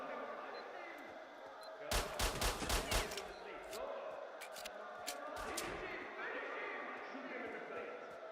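A rapid burst of about five gunshots cracks out in a S.T.A.L.K.E.R.-style arena video game, followed by scattered single shots over a low game backdrop.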